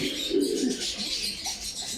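Pigeons coo softly and repeatedly at a pigeon farm in Bangladesh, low throaty calls near the microphone over a steady bed of farm noise, with no talking.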